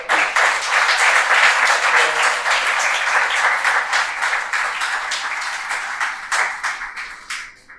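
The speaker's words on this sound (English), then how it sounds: "Could you just give our panelists a round of applause" Sustained applause from an audience for a panel discussion's panelists, loud at first and gradually thinning out, with scattered individual claps toward the end.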